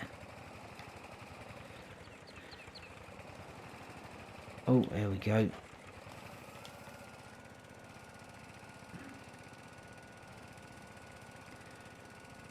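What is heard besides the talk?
tractor engine straining in Farming Simulator 22 video game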